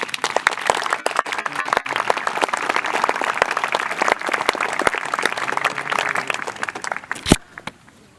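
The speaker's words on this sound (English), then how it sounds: "Let's give the temple a hand clap." An audience at a Poor People's Campaign gathering marking a temple's 33 years breaks into sustained applause, many hands clapping at close range before a sharp final clap and a quick fade.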